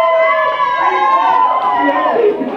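A crowd at a cosplayer meetup beatbox showdown cheers and shouts loudly and continuously, many voices blending into a dense, sustained roar.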